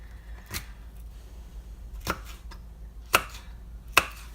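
A knife cuts through a sweet pepper on a cutting board in a kitchen, four sharp, separate chops spaced about a second apart against a quiet background.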